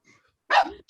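A puppy gives a single short, sharp bark close by, with a faint yip just after it, in an otherwise quiet room.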